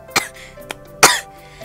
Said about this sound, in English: I feel like I'm gonna have a cough attack coming up.